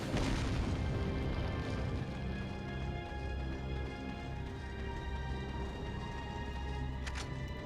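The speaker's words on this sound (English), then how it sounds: "Flashbang." A flashbang grenade blast in a video game fills the space with a dense, sustained roaring boom that rumbles loudly throughout and fades slightly, with no talk over it.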